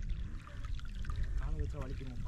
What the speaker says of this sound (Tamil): வழுக்குப்பாறையில் தண்ணி வருது இன்னைக்கு,